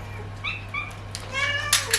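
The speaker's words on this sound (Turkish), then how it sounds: "içinde kalmış kedi" A cat meows repeatedly from inside a closed wardrobe, the calls muffled yet clear, rising to louder, drawn-out meows toward the end over a steady low hum.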